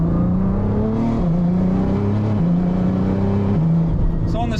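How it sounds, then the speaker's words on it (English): A twin-turbo tuner car, a Lamborghini or GT-R, cruising at part throttle on the street, its engine holding a steady low drone with small shifts in pitch, loud and close throughout. "I just want to show the viewers what this thing drives like with partial throttle and drivability"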